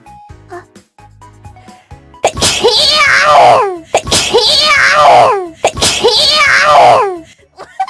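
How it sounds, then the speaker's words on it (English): Three loud, close sneezes in quick succession from a voice, each a sharp burst that trails off, with some faint murmuring beforehand. "A sneeze."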